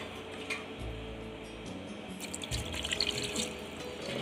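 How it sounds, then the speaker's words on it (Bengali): Water poured into a pot of Bengali-style country chicken curry with potatoes, a steady close splashing and trickling stream lasting a few seconds, with no talk over it. "আমি জলটা দিয়ে দিচ্ছি, দেখুন।"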